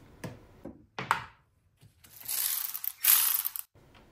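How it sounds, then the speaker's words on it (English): A hand ratchet works on the T30 Torx screws of a car's cabin filter housing, with a few sharp clicks followed by a longer, steady run of rapid pawl ticking, close and clear with no talking. "there are 4 T30 Torx screws to remove the housing"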